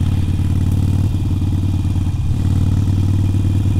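A Harley-Davidson Iron 883 motorcycle rides a rough back road on Route 66, its engine droning loud and close in a steady, unbroken rumble with rattling clatter from the bumpy surface.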